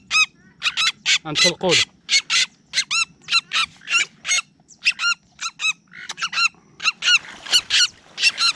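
A trapped wild duck gives loud, rapid, repeated honking quacks in close, continuous bursts, while someone speaks briefly.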